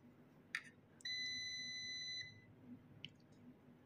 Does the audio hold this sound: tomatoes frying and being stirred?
no